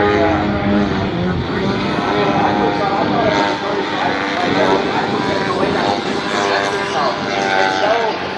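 A 40% scale RC model airplane flies an extreme aerobatic demo at an RC air show, its engine droning and shifting in pitch through maneuvers, under continuous talking from a commentator.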